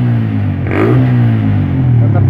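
A Yamaha Vixion motorcycle engine with a weak battery and check-engine light fault is revved in a workshop, rising from a steady idle into a loud, close throttle blip and holding a strained, higher drone.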